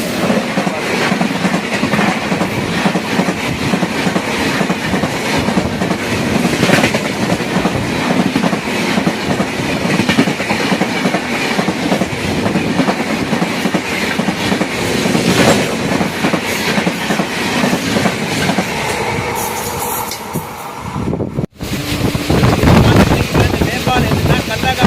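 Trichy–Jodhpur express train overtaking on parallel rails, heard from aboard a moving train as a steady loud rumble with rail clatter and wind buffeting, a sharp break near the end as the passing train clears.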